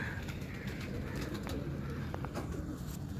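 Soft cooing of pigeons, a low murmuring coo repeating gently amid faint background chatter of birds, moderately distant and quiet.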